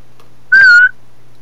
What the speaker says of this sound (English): whistle, Sean. It's super loud. Your mic picks it up too well